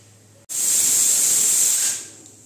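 A pressure cooker of papaya dal releases its whistle in a loud, steady hiss of steam that starts abruptly, holds for about a second and a half, then fades away.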